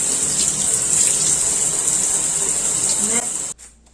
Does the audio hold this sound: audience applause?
no